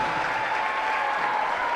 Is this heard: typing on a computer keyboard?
no